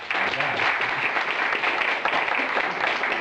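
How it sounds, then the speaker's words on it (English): Sustained audience applause during a speech for a stock market game, dense steady clapping from a group that continues evenly at moderate level without pause. "Just give him a round of applause for helping us save money."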